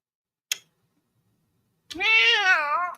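A house cat gives one long, clear meow near the end, after a short faint tap and a stretch of quiet.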